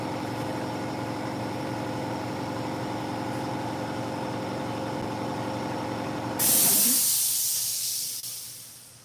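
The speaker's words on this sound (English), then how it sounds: "There goes the air compressor, as always." An air compressor runs in a garage with a steady droning hiss, then stops at about 6.5 seconds, giving way to a loud burst of air that tapers off.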